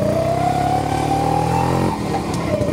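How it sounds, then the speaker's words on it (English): A 1991 Kawasaki HD3 125 two-stroke motorcycle on the road, its engine droning loud and steady with a rising pitch, then easing off near the end. "By 1991, Kawasaki, two-stroke."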